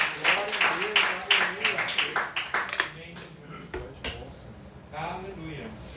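Church congregation clapping during a sermon, a brisk rhythmic run of claps at first that thins into scattered claps, with a preacher's voice speaking over it.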